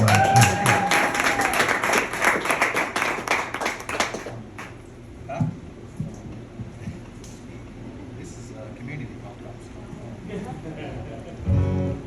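A concert audience claps for about four seconds, dense and close, then the applause fades out into quiet room noise with a few scattered sounds before a final burst.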